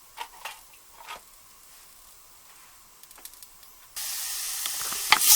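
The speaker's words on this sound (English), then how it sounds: "now that I can hear that the oil is hot enough to make these sizzle just a little bit" A few quiet clinks and taps, then a loud, steady sizzle of vegetables frying in hot oil starts suddenly and keeps going, close by.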